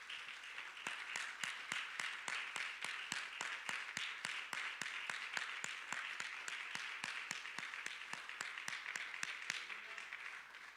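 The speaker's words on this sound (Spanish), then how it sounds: "Creo yo que el Señor se merece un aplauso por eso," Steady applause from a church congregation, dense overlapping claps running evenly through the whole stretch at moderate distance, with no voices over it.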